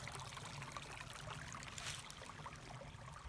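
Water trickles and burbles at a woodland water source, a soft, steady dribbling stream with faint splashy detail, continuous and fairly quiet with no talking.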